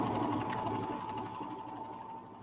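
A Baby Lock Vibrant serger stitches a rolled hem, giving a steady, even mechanical whir with a fast rhythmic buzz that holds at constant volume and fades slightly.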